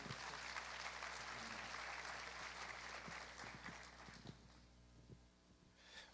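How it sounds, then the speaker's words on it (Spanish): Faint, distant applause from a church congregation welcoming a preacher, a soft wash of clapping over a constant low electrical hum, thinning out toward the end. "Recibamos con un aplauso a Andrés Restrepo."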